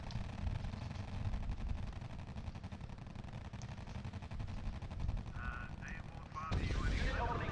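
Sustained gunfire from the World War II strategy game RUSE rattles steadily as a dense, continuous crackle of rifle and machine-gun shots under battle noise, and a brief voice breaks in near the end.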